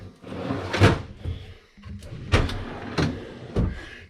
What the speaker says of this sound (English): Look at these pull-out trays.